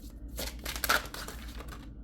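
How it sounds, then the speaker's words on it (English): Tarot cards shuffled by hand in an unusual way, a close, soft run of papery riffling and rustling lasting about two seconds, alone without talk. "I'm gonna shuffle these in a bit of a different way"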